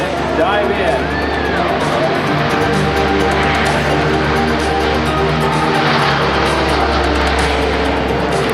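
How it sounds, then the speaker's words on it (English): A C-130 rolls at a 2004 air show in Gary, Indiana, giving off a loud, continuous propeller-engine drone that holds steady throughout. A public address announcer talks over the roar, and faint crowd noise sits beneath it. "it looks like this C-130 is on the roll from the left"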